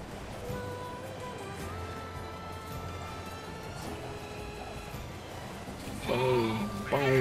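Sheep bleating in the video game NieR Replicant, a few wavering bleats over a steady wash of ambient game sound like waves, with a louder cluster of bleats near the end.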